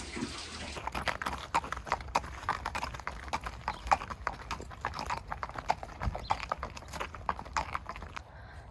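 Ponies walk on a hard surface, their hooves producing a steady, fairly close clip-clop rhythm throughout, soft and even in loudness with light background noise.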